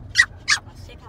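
Toy poodle giving two short, high whimpering yips close by at a home, each brief and thin against a quiet background.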